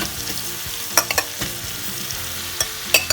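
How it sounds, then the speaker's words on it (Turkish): Olive oil artichoke dish stirred in a pan, a spoon scraping and clinking at irregular moments over a continuous soft sizzle, close and with no talking. "Şöyle bir karıştıralım."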